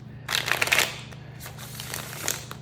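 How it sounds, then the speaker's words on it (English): A deck of cards is shuffled by hand in quick riffling bursts, with a louder flurry early on and a shorter one near the end, close and crisp over quiet room tone. "I'm gonna shuffle like 3 more times"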